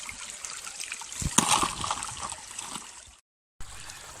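Water trickling and splashing as a gold pan is worked in a shallow creek, a steady close burble with a brief louder slosh midway, then a short gap before the flow resumes.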